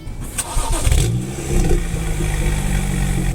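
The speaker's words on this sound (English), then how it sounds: "we'll put the key in the ignition, press on the brake, start the vehicle" A 2011 BMW 335i E92 cranks and fires up, its engine catching with a short rev before settling into a steady, close idle that continues alone.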